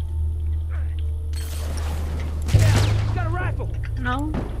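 Rifle fire in The Last of Us multiplayer match rings out as a burst of loud shots amid game effects, with people talking over it.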